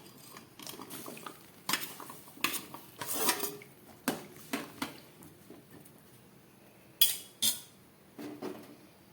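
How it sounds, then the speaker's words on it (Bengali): Chopped potato, pointed gourd and papaya dropped into boiling water in a pot, heard as a series of close clattering splashes and metallic knocks of a utensil against the vessel, spaced irregularly with quieter bubbling between. "এবারে আমি এই জলের মধ্যে এই যে কেটে রাখা সবজি আলু, পটল আর পেঁপেটা দিয়ে দিচ্ছি।"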